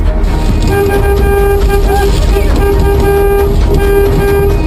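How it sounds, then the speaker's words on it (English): A van horn blares in a long, sustained honk, loud and close, over rumbling wind and vehicle noise during a simulated disaster escape from a tornado's path. "The tour leader immediately honks his horn to get the group back in the van."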